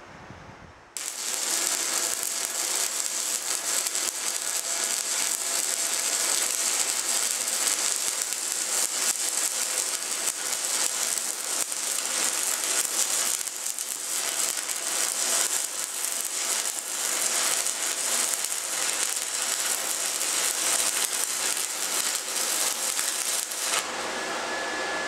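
A PowerARC stick welder burns a cap pass with 6010 rod, a steady loud crackling and hissing arc that runs continuously for over twenty seconds with no talk.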